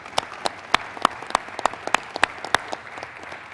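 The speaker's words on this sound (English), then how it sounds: "So let's give them a round of applause" A small audience applauds for the National Guard, a sparse scattering of distinct, fairly close claps in an uneven rhythm rather than a full ovation.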